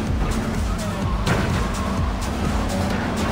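A car in Grand Theft Auto III roars along with dense, continuous engine and tyre noise, squealing skids and a few sharp impact bangs, loud and steady throughout, with no clear speech over it.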